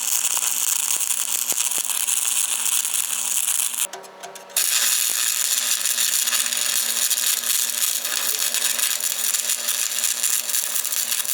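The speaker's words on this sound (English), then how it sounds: "So now we'll weld the back. Weld in back here on both sides." Stick welding the back of a Case 580K backhoe bucket, a steady loud arc crackle and buzz running almost throughout, with a brief break around the middle before the arc restarts.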